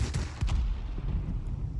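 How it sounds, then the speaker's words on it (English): Loud, booming machine-gun fire from a BF 109 Z Zwilling fighter in World of Warplanes comes in a short rapid burst of heavy thuds that hangs on as a dense rumble. "Forgot how loud the guns were on the Germans."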